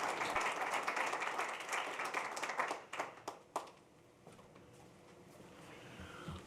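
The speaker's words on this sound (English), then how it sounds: "I think that we should thank each one of them with an applause" A symposium audience applauds the panelists of a Latin American religious affairs and human rights gathering, a dense steady clapping that thins to a few scattered claps and fades out.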